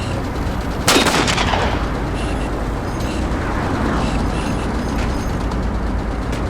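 Heavy mounted vehicle gun fire in Halo 4 combat, opening with a sharp loud blast followed by a dense continuous rumble of shots and explosions with no clear pauses.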